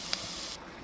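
Water poured into a chicken biryani pot, a brief hissing rush lasting about half a second before it cuts off, close and moderately loud.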